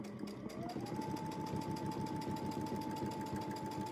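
Sewing machine running steadily for free-motion quilting on an intersection quilt, a fast even rhythmic needle clatter with a humming motor tone throughout, close and continuous.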